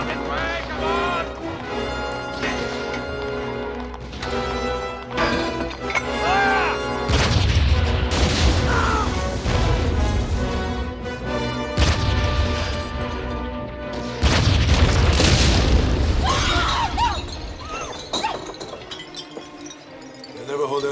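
Artillery fire pounds a battlefield in heavy, rumbling explosions, with a dense run of booms swelling louder in two waves while voices shout over the din.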